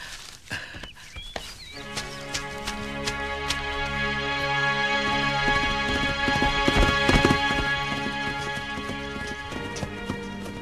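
A horse's hooves clip-clop in a steady rhythm on hard ground, close and clear, while a tonal music score plays alongside.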